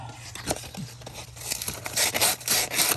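Sandpaper rubbing corrosion and rust off a car thermostat housing on a 1996–2007 Ford Taurus or Sable, producing a series of close, scratchy strokes that grow louder and denser toward the end, with no talking.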